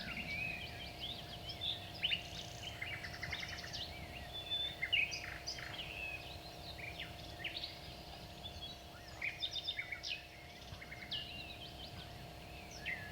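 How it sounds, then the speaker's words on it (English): A cassette recording of bird and animal sounds plays quietly, with scattered chirps and tweets in short bursts over a steady low hum and tape hiss. "I found a cassette that contained only sounds of birds and animals."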